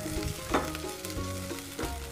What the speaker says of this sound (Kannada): ಇದನ್ನು ಕೂಡ ಇದ್ರ ಜೊತೆಗೆ ಹಾಕ್ಕೊಂಡು ಫ್ರೈ ಮಾಡ್ಕೋತಾ ಇದ್ದೀನಿ